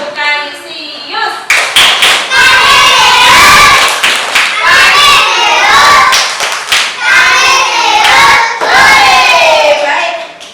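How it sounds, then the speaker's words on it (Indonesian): A first-grade class at Kanisius Notoyudan elementary school claps a rhythmic patterned chant, sharp loud hand claps in quick bursts mixed with children's voices chanting along throughout. "Kita beri tepuk tangan untuk Nathan"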